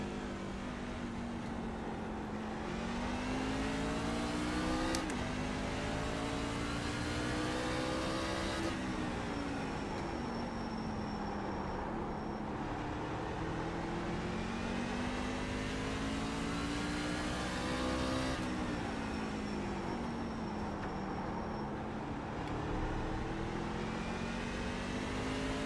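Race truck engine in an iRacing game at Martinsville, loud and continuous, rising through the revs, dropping sharply at each corner and climbing again in a repeating cycle.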